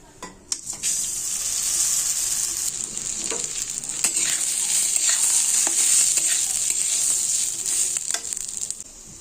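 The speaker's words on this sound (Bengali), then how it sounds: "এবার ঘি নুন হলুদ দিয়ে মেখে রাখা চালগুলো দিয়ে দিচ্ছি।" Rice coated with ghee, salt and turmeric sizzles and fries loudly in hot oil with whole garam masala spices, a steady bright hiss with occasional stirring scrapes and clinks from the pan throughout.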